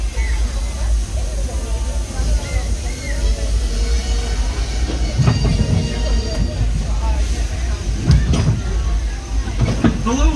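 The Disneyland Railroad train behind locomotive Ernest S. Marsh rolls along at night with a steady low rumble and clanking of the cars, while voices talk over the ride.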